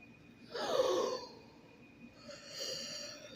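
One person yawns close by, a long breathy rising inhale that trails off into a softer, sighing exhale.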